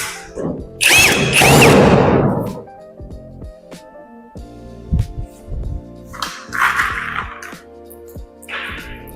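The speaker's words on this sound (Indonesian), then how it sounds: "tapi saya gunain 2 baut untuk ngebaut ujung-ujungnya" A power drill drives bolts into the roof panel of a two-door wardrobe, with a loud whirring burst followed by shorter whines, knocks and clatter of assembly nearby.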